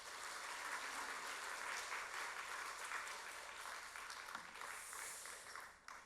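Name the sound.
applause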